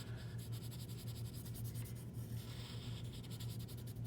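Soft pencil shading on paper, the side of the lead rubbed back and forth in a steady scratchy rhythm, faint and close, with a low hum underneath and no talk.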